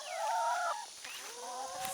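A hen clucks close by in short vocal bursts, with one louder call at the start and softer murmurs after, outdoors and with no talk.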